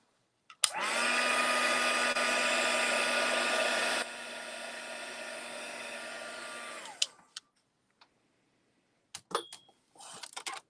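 A hair dryer blows on paint for about six seconds, loud and close, dropping to a lower setting partway before switching off, followed by a few faint clicks and brush handling.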